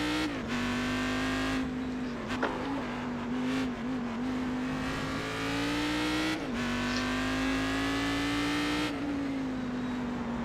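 A narrow GT race car engine in the iRacing simulator drones at high revs with a strong steady tone, dipping briefly at gear shifts and climbing again, loud and continuous throughout.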